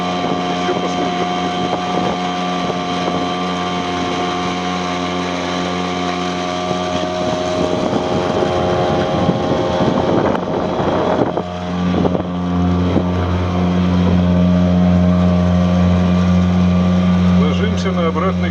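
Tohatsu M3.5B2 outboard motor pushing a Nissan PF-730T boat into the wind at full throttle, a steady droning hum close by with wind buffeting the microphone, pitch settling lower and stronger midway through.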